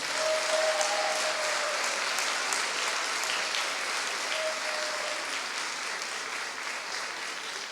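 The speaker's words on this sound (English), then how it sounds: "Can we give all of them a round of applause right now?" Audience applause at a college African American graduation ceremony, honoring graduates' families and mentors: a dense, steady wash of clapping from a large crowd that fades only slightly over several seconds, with no talk.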